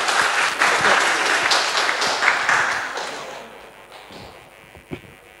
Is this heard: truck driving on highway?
no